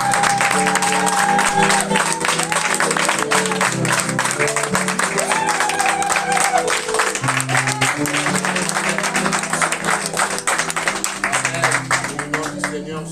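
A church congregation stands applauding and acclaiming, sustained loud clapping and cheering that fills the room for over ten seconds while music and voices carry on beneath it.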